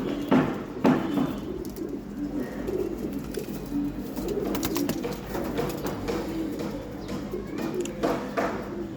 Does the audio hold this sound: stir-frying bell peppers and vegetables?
no